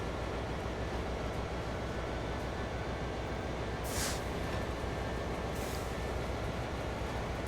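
An SD40-2 diesel locomotive rolls along in Train Sim World 4, giving a steady broadband rumble and hiss with a couple of brief higher squeals, continuous and fairly loud with no talking.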